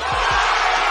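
Basketball arena crowd roaring and cheering during an NBA draft prospect's college game, a loud continuous wall of voices with no break.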